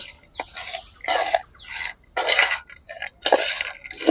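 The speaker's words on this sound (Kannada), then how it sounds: "ನೋಡಿ ಕಡಲೆ ಹೇಗೆ ರೋಸ್ಟ್ ಆಗಿದೆ ಅಂತ ಹೇಳಿ, ಒಳ್ಳೆ ಗರ ಗರ ಗರ ಸೌಂಡ್ ಬರ್ತಾ ಉಂಟು" Roasted chickpeas tossed with salt and chilli spice rattle and clatter in a vessel in uneven bursts of dry, gravelly scraping, close and fairly loud.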